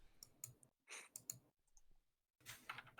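Mechanical keyboard with Razer green switches typing in bursts of crisp clicks, separated by short pauses, fairly quiet and with no speech.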